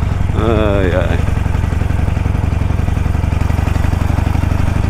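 A Harley-Davidson Iron 883 motorcycle rolling slowly in third gear, its engine a steady loud, lumpy low-pitched thrum with rapid even pulses, as a voice speaks briefly over it near the start.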